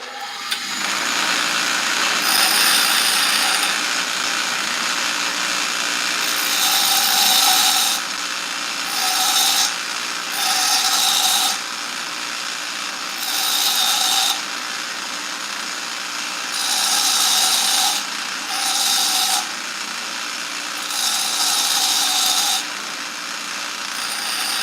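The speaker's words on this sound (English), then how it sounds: "I think I would have been better off doing it on my grinding wheel" Metal being ground on a bench grinding wheel while fixing up a tractor, a steady motor whine broken by repeated loud bursts of grinding as the piece is pressed on and pulled off, close by with no talk.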